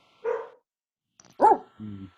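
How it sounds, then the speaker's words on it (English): A single dog barks a few times nearby: a sharp bark, a pause, then a louder bark and a short lower woof, with quiet in between. "Whose dog is that?"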